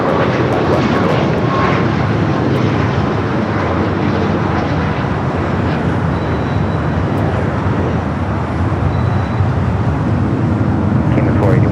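A Boeing 737 MAX 8 jet rolls down runway 25 right at LAX with a dense, loud, continuous engine roar that holds steady throughout, while a voice talks faintly over it.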